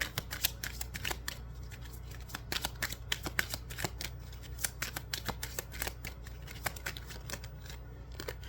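Oracle cards from a romance angel deck are shuffled for a reading, giving rapid, crisp riffling and slapping taps close up against a low steady background hum.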